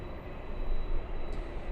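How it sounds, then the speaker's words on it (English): Delta Airlines Airbus A319 airliner passing at LAX, a steady broad engine roar that swells slightly mid-pass, heard at a distance with no voices. "we have Delta Airlines A319 flying to Portland"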